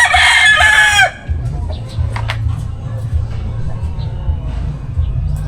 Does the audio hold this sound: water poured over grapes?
no